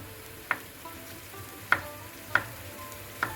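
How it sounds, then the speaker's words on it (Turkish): A soft, steady sizzle of chicken and onions sautéing in a pan, with a few sharp clicks or taps of a utensil scattered through. "Önce şöyle tavuklarımı soğanlarımı iyice suyun çekinceye kadar böyle bunları kavuracağım."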